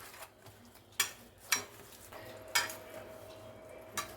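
Red food colouring being mixed into kurdai dough made from poha, heard as soft scraping with several sharp spoon-against-bowl clinks spaced about a second apart in a quiet kitchen.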